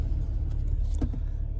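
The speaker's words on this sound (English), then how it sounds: "I'm driving this car today" Steady low engine and road rumble inside a car being driven, continuous and fairly close throughout, with a few faint higher rattles and no talking.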